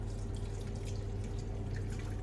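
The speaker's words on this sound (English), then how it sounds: "You just want to come in and top it up with water." Water is poured into a pot of broth to top it up, a soft continuous splashing and dripping stream, close and fairly quiet, heard alone without talk.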